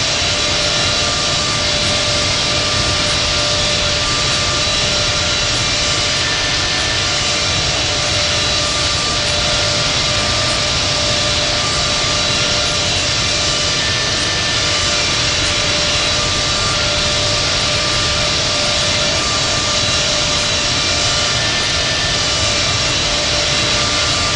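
A Delta jet airliner taxis at Atlanta's Hartsfield-Jackson airport with a loud, constant roar and high whine of jet engines that holds unbroken for the whole stretch. No voices are heard.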